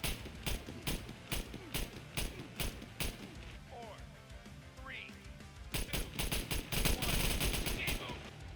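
Rapid bursts of automatic gunfire from the survival video game SCUM, loud, repeated volleys with a short lull in the middle, mixed with voices talking.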